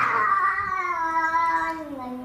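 A single drawn-out cat meow with a falling pitch, close and clear, lasting about two seconds.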